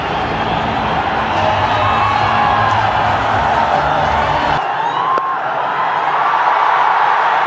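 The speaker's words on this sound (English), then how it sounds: "That's brought the crowd to life." Crowd cheering and whooping at a Nepal vs Italy T20 World Cup cricket match, a loud continuous roar of spectators that drops back slightly partway through.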